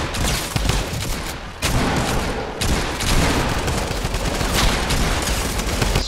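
Rapid gunfire in Fortnite Battle Royale, loud bursts of automatic shots rattling almost continuously, with a brief gap around the middle and no talking over it.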